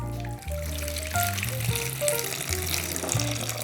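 Water poured into a sourdough bread mixing bowl, a steady close gushing stream running without pause under a faint background hum.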